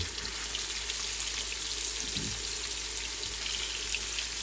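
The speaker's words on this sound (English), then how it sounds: "We're just going to take our pieces of meat, lay them in there, and we just want to quickly fry them" Pieces of meat for svíčková frying in a hot pan, giving a steady, even sizzle and crackle that holds throughout without pause.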